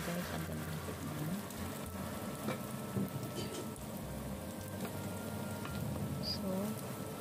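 Enoki mushrooms bound with egg fry in a pan, giving a steady, soft, rain-like sizzle that continues evenly throughout, with no talk.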